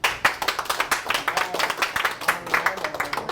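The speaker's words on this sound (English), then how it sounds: "let's hear it by applause if you or your family served in the Army" A show audience claps in response to a call for Army veterans and their families, a modest crowd with distinct individual claps swelling and ebbing, and a few voices faintly underneath.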